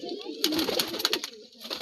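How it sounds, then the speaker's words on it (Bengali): A pigeon coos in soft repeated notes close by, briefly, with someone talking over it. "এই যে কবুতরটা দেখাচ্ছে ডাকতেছে ভিডিওর ভিতরে"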